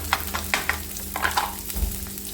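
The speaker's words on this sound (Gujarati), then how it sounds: "એમાં હવે લસણ અને આદુની પેસ્ટ નાખવાની છે આપણે" Garlic and ginger paste frying in a spoonful of oil in a kadai, with a steady low sizzle and a few sharp stirring scrapes spaced through the short stretch, close by and fairly quiet.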